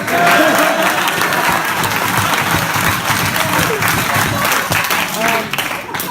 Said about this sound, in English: we should all give a big round of applause to Donnie Savitsky.